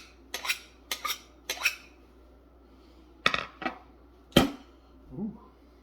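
A homemade hard steel kitchen knife gives a series of sharp, close metallic clinks and taps, several quick strikes followed by a few louder separate hits against a quiet background, with no talking.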